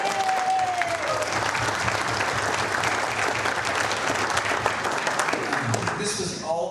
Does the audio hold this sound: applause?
yes